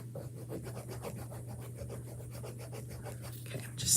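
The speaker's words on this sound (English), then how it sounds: "I'm just sanding it smooth." Steady rasping rubs of sandpaper on wood, a quick repeated back-and-forth scratching close by, over a low constant hum.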